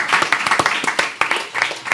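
An audience at an event applauds with a short burst of sharp, close claps from a small group, uneven and rhythmic, with some voices mixed in.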